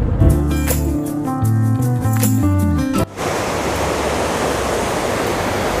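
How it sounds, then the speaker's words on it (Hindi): A fast-flowing river rushes past the riverside in Kullu, Himachal Pradesh. Music plays over the first half, then the water continues alone as a steady, loud roar. "कलकल बहती हुई"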